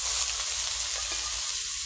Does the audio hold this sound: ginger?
yes